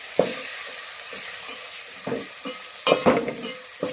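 Turmeric, salt and chilli powder stirred into a pan of frying ingredients for a capsicum masala curry, with a few distinct spatula scrapes and knocks over a light, quiet sizzle.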